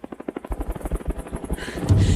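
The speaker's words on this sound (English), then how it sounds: "Where the hell did those choppers come from?" Helicopter gunships pass close overhead, their rotors beating in a loud, rapid rhythmic chop that swells into a roaring wash of engine and wind noise.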